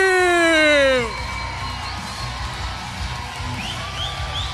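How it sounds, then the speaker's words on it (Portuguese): Church congregation shouting and cheering for a team, a loud burst of voices that quickly settles into a steady crowd murmur with scattered whoops. "Então eu quero ouvir o grito do time do Isaías"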